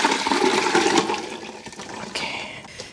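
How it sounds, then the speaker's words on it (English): Liquid poured into an Instant Pot pressure cooker while boiled peanuts are prepared, a steady splashing gush that runs for about three seconds, loudest at the start and easing slightly toward the end. "So I'm just gonna pour all of this into the instant pot."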